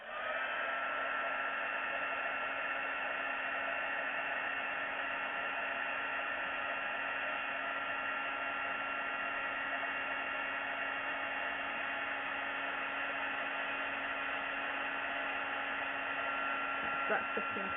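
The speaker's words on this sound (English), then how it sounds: "then we can heat that with our heat gun" A heat gun blows a steady, loud airy whoosh with a constant hum while melting white embossing powder on a stamped card, running unbroken throughout and ending with a few faint clicks.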